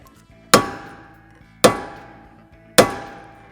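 Three sharp, loud hammer strikes on a metal part of an RC car brake assembly, evenly spaced about a second apart, each ringing briefly before fading out.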